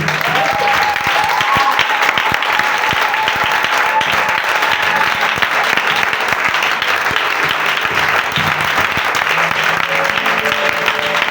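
A church congregation applauding during a worship service, dense sustained clapping from a large crowd with some voices mixed in, steady and loud throughout.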